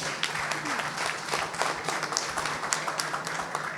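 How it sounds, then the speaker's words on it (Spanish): Audience applause for a speaker introduced at a science talk held in a restaurant in Manta, a steady wash of clapping at moderate level with a low hum underneath and no talk. "Un aplauso por favor para Wilfrido"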